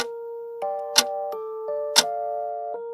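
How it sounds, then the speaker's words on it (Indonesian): Old clock sounding in a horror story setting: two sharp ticks about a second apart over sustained, shifting chime tones, clear and steady with no talking. "hanya terdengar bunyi detak jam tua dari kejauhan"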